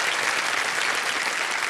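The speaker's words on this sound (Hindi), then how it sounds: "तालियां बजाना चाहेंगे आपके लिए।" Studio audience on a televised quiz show applauds a young contestant, a steady, dense clapping throughout with no talk over it.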